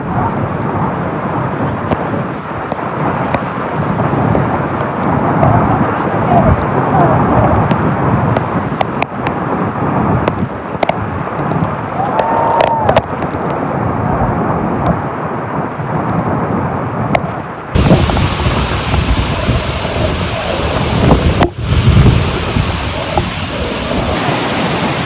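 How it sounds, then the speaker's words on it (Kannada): Hebbe waterfall in Tarikere taluk, Chikkamagaluru, Karnataka, a loud continuous roar of falling water heard close and steady, with a brighter, hissier wash in the later part and no talking. "ಇದು ತರೀಕೆರೆ ತಾಲೂಕಿನ ಹೆಬ್ಬೆ ಜಲಪಾತ"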